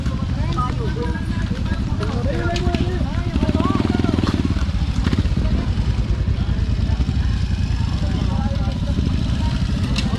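A motorcycle engine runs close by at a roadside horse race, a steady low rumble that persists under loud shouting and chatter from the crowd.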